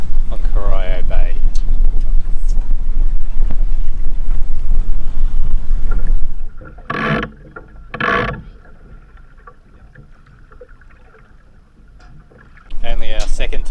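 Wind buffets the microphone as a sailboat moves through water on Corio Bay, with rushing gusts, creaking rigging and a few voices talking over the noise.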